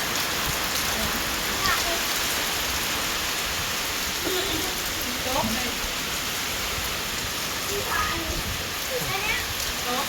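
Heavy rain pours steadily outdoors, a dense and constant hiss of drops drumming on surfaces for the full stretch, with faint scattered chirps and no clear talking.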